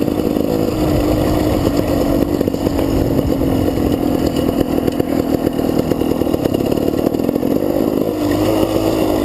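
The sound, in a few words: GasGas dirt bike engine revving while riding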